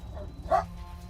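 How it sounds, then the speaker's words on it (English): A single short dog bark rings out mid-clip over a steady low hum, faint and somewhat distant, with a thin high electronic tone running beneath. "I got a dog barking again"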